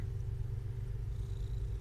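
Amber, a pet cat, purrs close up with a soft, steady low rumbling pulse, faint and continuous with no talking.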